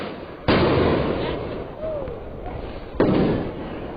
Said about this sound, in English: Loud bangs, gas fired, protesters running, but not fleeing.